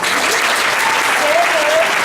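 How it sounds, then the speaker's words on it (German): An audience at the Prix Walo final in Birr applauds in a steady, even wash of clapping, with faint voices calling out over it. "Alle zusammen da mal den ganzen anderen Teilen einen riesen Applaus, die mitgemacht haben."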